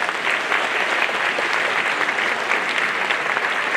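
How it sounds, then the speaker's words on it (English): A school holiday concert audience applauds in a continuous, even wash of many hands clapping together, sustained at a steady level throughout without any break. "Round of applause, Ms. Davis, please."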